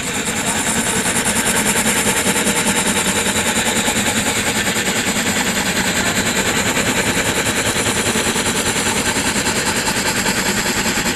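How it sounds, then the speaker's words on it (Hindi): A homemade steam engine runs steadily with a loud, fast, continuous mechanical chatter and hiss that stays close and even throughout, with no voices. "यहाँ पर देखिए हमारा इंजन कितने अच्छी तरीके से वर्क कर रहा है"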